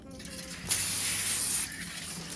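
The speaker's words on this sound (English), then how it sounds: "I'm going to have a cookie sheet, and I'm going to spray" Cooking spray hisses from an aerosol can onto a cookie sheet in one steady burst of just under a second. It is close and fairly loud over quiet kitchen background.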